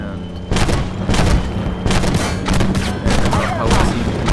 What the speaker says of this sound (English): on the move firing the auto cannon